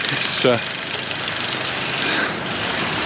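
A jackhammer keeps up a steady rattling drone close by on a street at Playa de Palma, Mallorca, with a short voice-like sound near the start sitting over the continuous hammering.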